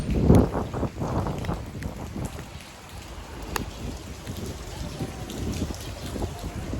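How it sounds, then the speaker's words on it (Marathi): Soft, steady monsoon rain patters on a bus ride to Shirdi, with a low rumbling wash underneath and a few brief knocks and thumps nearby. "आणि हे पावसाचं सुंदर वातावरण"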